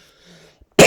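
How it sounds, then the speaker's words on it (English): A single loud, harsh cough bursts out at the very end, after a moment of quiet murmuring. "Smoker's cough out of the way."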